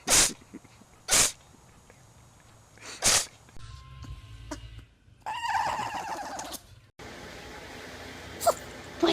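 A pet gives three sharp, loud sneezes in quick succession, followed by quieter scuffling and rustling close by.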